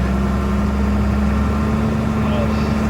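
A tractor engine runs steadily while mixing in a bale on a snowy farm in the dark, a constant low idling drone close by and alone throughout.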